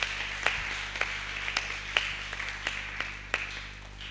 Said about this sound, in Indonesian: kita tepuk tangan untuk mereka ya.